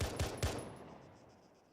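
Three quick gunshots from an in-game assault rifle fitted with a grenade launcher, in the Eridanus Insurrection mod, fire in rapid succession and then ring out in a fading reverberant tail.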